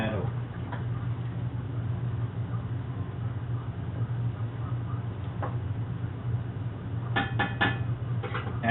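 A spoon works through gumbo in a cooking pot, giving faint scraping and a few sharp metallic clinks near the end over a steady low burner rumble.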